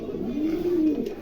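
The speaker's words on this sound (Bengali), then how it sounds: "চমৎকার একজোড়া কবুতর" A pair of silver fancy pigeons gives a single soft, rising-and-falling coo, heard close and alone.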